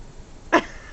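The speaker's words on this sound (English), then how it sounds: "We got the hiccup." A child hiccupping indoors, two short sharp voiced hics about half a second apart, close and fairly loud over a quiet background.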